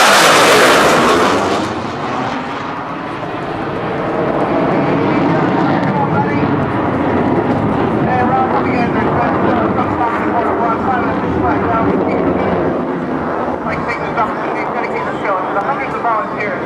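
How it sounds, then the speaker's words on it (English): CF-18 Hornet fighter jet flying a display at a naval air station airshow, a sustained loud jet roar that swells and holds while an announcer talks over the noise. "Ladies and gentlemen, here comes the CF-18"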